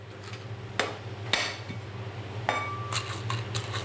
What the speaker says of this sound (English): you can really crush your peppercorns